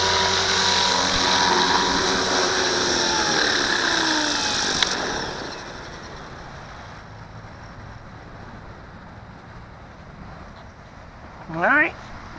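A Walkera V450D01 RC helicopter setting down outdoors in a breeze, its steady rotor whine loud at first, then cutting away to quiet wind noise, with a brief voice near the end.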